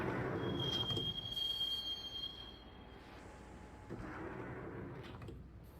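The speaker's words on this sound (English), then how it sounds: "the train doors had already shut behind me, and I was in for the ride" A train from the video game Max Payne runs on rails: a steady rumbling roll with a long thin wheel squeal early on, then fading rattles and a second swell of rolling noise, no talk.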